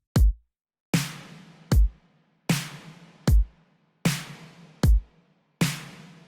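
A programmed pop drum beat alternating a deep kick with a sharp layered clap sample, eight hits in an even rhythm, the claps leaving a short roomy tail.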